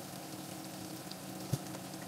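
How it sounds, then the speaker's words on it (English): Sausage fries in a pan with a steady, fine sizzle that stays even throughout, broken by one brief knock near the end. "now I'm getting ready to fry my sausage"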